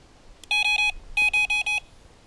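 Carp fishing bite alarm buzzers beep in two bursts of three to four rapid electronic tones, clear and close with nothing else around them.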